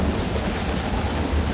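Rain falls in a steady, dense hiss with a low rumble beneath, continuous and fairly loud throughout, with no voices.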